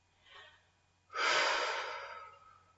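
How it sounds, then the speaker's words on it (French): A long, loud exhalation during a sophrology relaxation exercise, preceded by a softer, shorter breath, close and clear with no talking over it. "à l'expire, vous soufflez, vous relâchez."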